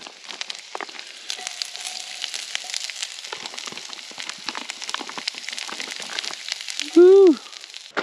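Fresh-cut garlic and ginger frying in a pan over hot coals outdoors, a dense crackling sizzle with scattered pops, ending in a short whistling squeak.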